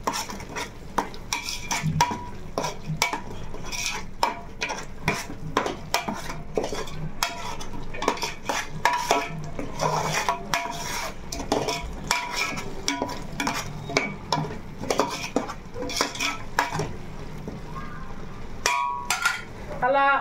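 Spiced fish curry stirred and fried in a pan, with steady scraping of a utensil against the pan and clinks of metal over a soft sizzle, continuing close up for the whole stretch with no talk.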